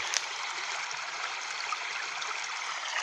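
A small stream flows and trickles steadily nearby, a soft continuous babble of water with no voices.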